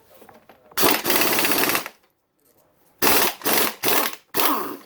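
A cordless battery impact wrench hammers on a 24 mm nut during a 2019-2023 Yamaha YZ250F engine rebuild: one long rattling burst, a pause, then three short bursts, close and loud.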